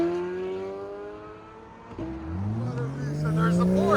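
A 2023 Chevrolet Corvette Z06 with a 5.5-litre V8 and straight-pipe exhaust idles loudly, then revs and pulls away with a rising, rasping roar. The exhaust note climbs steadily and stays up close and dominant.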